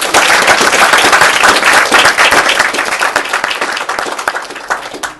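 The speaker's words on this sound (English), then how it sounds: "I hope you join me in giving him a round of applause for his talk." An audience gives a lecturer a round of applause after his talk: loud, dense clapping from a room full of people that slowly thins and fades over about five seconds.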